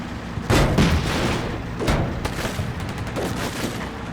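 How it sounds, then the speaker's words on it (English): Heavy .50 cal machine gun fire in the wargame Combat Mission Black Sea, a few loud booming bursts spaced over a few seconds with rumbling battle noise between them, no talk. "I think it's the guys up here, they're shooting at it. 50 cal."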